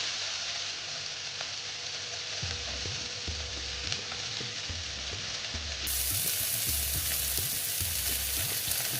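Potatoes frying in hot oil in a pan for a Bengali chira pulao, with a steady close sizzle and repeated scraping stir strokes throughout, growing slightly louder partway.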